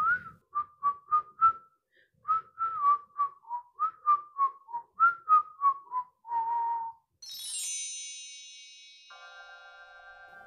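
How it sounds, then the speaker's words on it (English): Cartoon dwarfs whistle a bouncy, repeated melody in short rising-and-falling phrases while walking home, followed by a bright chime and a sustained bell-like tone, with no speech. "singing and whistling as they went"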